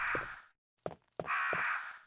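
Crows caw in the Resident Evil video game: two harsh, rasping calls, each lasting about half a second, separated by a short gap with a couple of faint clicks. The calls are fairly close and clear, with no talk over them.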